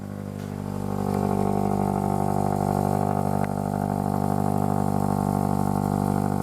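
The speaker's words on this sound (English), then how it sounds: "That's my cold start exhaust sound." A supercharged car engine on a cold start idles with a deep, steady exhaust rumble, rising slightly after the start and holding a constant throaty drone.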